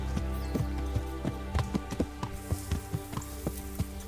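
Hooves of a horse in Kingdom Come: Deliverance clip-clop in a steady trotting rhythm, crisp, close and fairly loud, with a low ambient background and no talk.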